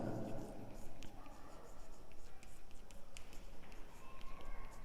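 Writing on a board, with faint scratchy strokes and light taps coming in short bursts under a teacher's ongoing speech.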